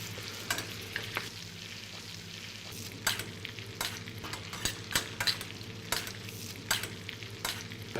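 Fillet steak fries in a pan while hot butter is spooned over it, giving a constant sizzle with repeated sharp spoon clinks and splashes at an uneven rhythm.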